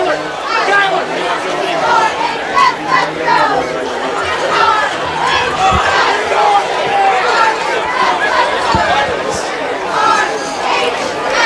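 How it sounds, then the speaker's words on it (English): A home crowd at a small-town high school varsity football game, Algonac at Richmond, chatters and cheers as a steady babble of many voices, with occasional louder shouts. "It's just nice to see the excitement from the home crowd."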